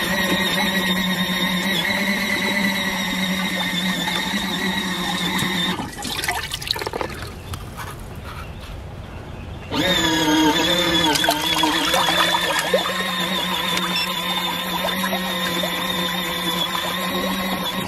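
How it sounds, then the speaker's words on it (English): A small portable washing machine runs a load with a steady motor hum and sloshing, churning water, pausing briefly midway to a quieter trickle before the agitation resumes. "I'm gonna get the machine, the smaller one, and go ahead and start our second load"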